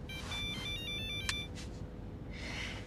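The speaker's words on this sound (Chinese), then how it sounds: "房主来电话了。" An incoming call sets off a phone's electronic ringtone, a quick repeating melody of beeping tones heard fairly faintly over a steady low room hum, with no one speaking.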